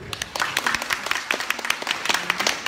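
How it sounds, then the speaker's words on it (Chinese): Audience applause welcoming Tzu Chi urology director Dr. Kuo to the stage at a health talk, a dense patter of many hands clapping at steady moderate loudness throughout. "那我们掌声欢迎郭主任"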